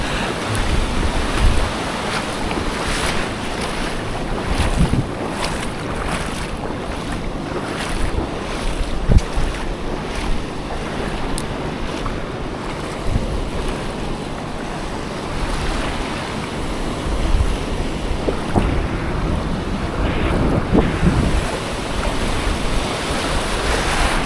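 Ocean waves and wind roll steadily around a small fishing boat at sea, with continuous wash, surf and microphone wind noise filling the scene at moderate, even loudness and no talking.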